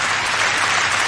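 Studio audience applauding on a Japanese-culture TV programme, a brief burst of even, steady clapping at moderate level with no voices on top.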